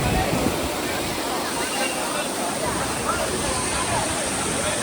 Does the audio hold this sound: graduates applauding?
no